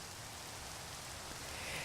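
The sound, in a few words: rain falling in the video game Minecraft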